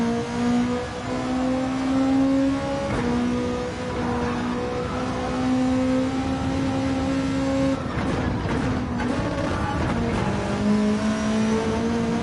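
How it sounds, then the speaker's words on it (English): Race car at Road Atlanta during a three-hour endurance race, engine droning loud and close with pitch climbing and holding, then choppy stuttering bursts as it bounces off the rev limiter. "Hit the rev limiter."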